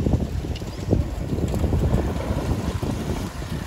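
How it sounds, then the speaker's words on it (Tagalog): Strong outdoor wind buffets the microphone at a pigeon release site, producing a continuous low rumbling roar with gusty swells and no voices. "Medyo mahangin dito sa lugar, pero kayang-kaya ng ibon yan."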